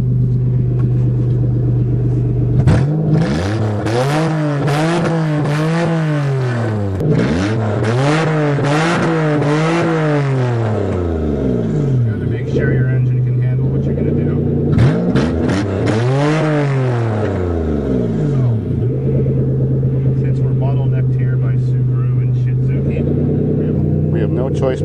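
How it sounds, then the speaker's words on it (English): Toyota with a manual transmission driven around a farm, its engine droning steadily and revving up and down in repeated swells as gears change, the rumble close and continuous, with some talk over it. "Now I'm skillfully driving, holding a camera and driving with the other hand."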